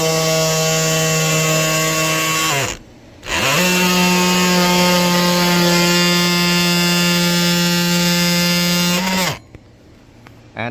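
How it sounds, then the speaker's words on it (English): An oscillating tool with a steady, high-pitched motor whine cuts and trims a plastic dash panel on a 2019-2024 Ram truck. It runs in two long continuous passes with a brief stop between them, loud and close. "I'm gonna use an oscillating tool to kind of cut that a little bit."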